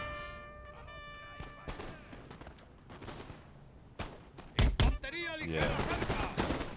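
Scattered gunshots crack in an Age of Empires match, some as sharp single reports and some in quick bursts, with a heavier volley near the end, heard under ongoing commentary.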